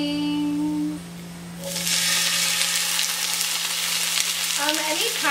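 Garlic hits hot olive oil in a pan and erupts into a loud, continuous sizzle and crackle, preceded by a quiet moment with a low hum, and a brief voice near the end.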